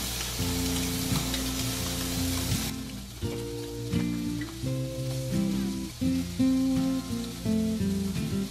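Sausage, pulled out of its casing, fries in a pan with a steady, bright sizzle that stays loud and continuous, while background music with sustained tones plays over it.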